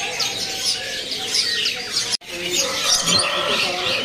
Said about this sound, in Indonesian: Di sini juga ready burung pelamboyan.